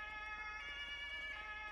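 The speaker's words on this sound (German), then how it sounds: "Ach, scheiße auf die Sirenen." Emergency vehicle sirens from the game FiveM (GTA V) in an ambulance roleplay, several overlapping tonal wails sustained and fairly loud, with a regular swelling pulse and no speech.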